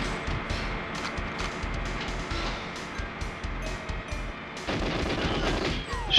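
Repeated gunshots in the GoldenEye Frigate level, a steady run of close single shots and short bursts over game background noise, with a denser, louder volley near the end.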